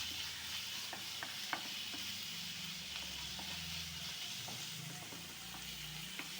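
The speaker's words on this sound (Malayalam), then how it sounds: "നമ്മളൊന്ന് ഇളക്കി ഇളക്കി ഇതിനൊന്ന് മുരിച്ചെടുക്കണേ" Pappadam stirred and fried in a pan for a Kerala-style mezhukkupuratti gives a steady, soft sizzle, with occasional light scrapes and taps of a spoon against the pan.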